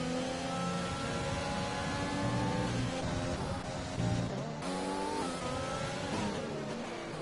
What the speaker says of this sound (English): There's like a nice little train of cars right here.